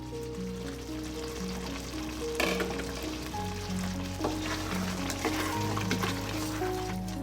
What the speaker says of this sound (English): Let's mix it for a while,